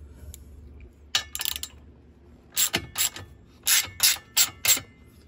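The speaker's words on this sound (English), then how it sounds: "it's a 10 millimeter socket" A 10 millimetre socket ratchet loosening a fastener on a Chrysler 300 panel, with short bursts of sharp, close ratcheting clicks separated by quiet gaps, loud against a near-silent background.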